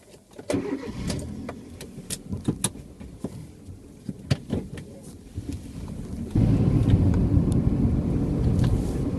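Clicks and clunks of a 2009 Kia Rio's door and controls, then the engine turns over and settles into a steady running rumble.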